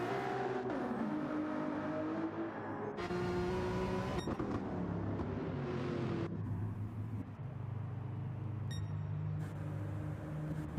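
A Ferrari race car in a racing video game, engine droning and rising through the gears, then dropping to a lower steady hum, quiet and continuous with a few faint beeps.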